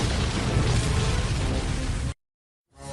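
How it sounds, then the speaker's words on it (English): A huge magical explosion in a My Little Pony cartoon battle: a loud, dense roaring blast that holds for about two seconds, cuts off abruptly into silence, and then a new sound begins to swell. "the beams erupted into a huge magical explosion"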